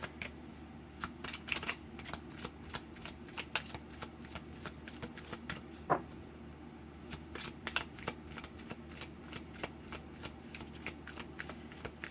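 Tarot cards are shuffled for a reading in a rapid series of crisp riffling clicks. The bursts come in quick repeated runs with brief pauses between them, up close and quiet, with no talk.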